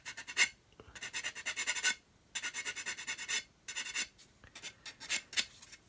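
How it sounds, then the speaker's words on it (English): Sandpaper rubbing along the edge of a plastic model kit part on a Buff build, heard as a series of close, dry scratchy strokes in short bursts with brief pauses between them, and no talking. "just sand that away, sand along there"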